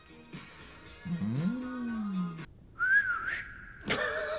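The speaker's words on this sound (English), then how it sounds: "That's me whistling." A person whistles a rising and falling tune in a few short phrases, close by, with ambient background noise and a brief sharp sound near the end.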